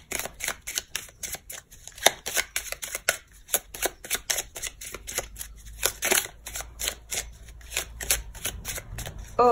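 A deck of tarot cards is shuffled close up in quick repeated riffles and flicks, crisp card snaps following one another without pause.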